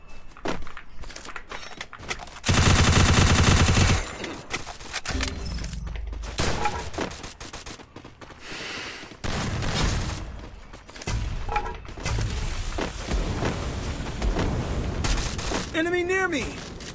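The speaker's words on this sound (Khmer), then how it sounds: "គេបាញ់ចូលក្បាលយើងបាញ់ចូលខ្លួន" Gunfire in a mobile shooting video game, with rapid bursts and single shots, impacts and footsteps, while someone talks over the action throughout.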